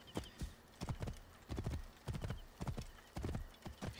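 Horse hooves clip-clop in a steady galloping rhythm with a brief neigh, from a mount in the video game Assassin's Creed Origins, close and clear with no talk.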